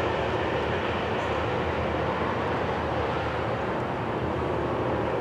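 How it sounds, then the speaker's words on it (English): Florida East Coast Railway train 920 passes northbound on the main line with a steady, loud, continuous rumble and roar of rolling cars, close and unbroken throughout. "Just like that, FEC's 920 has gone north this morning."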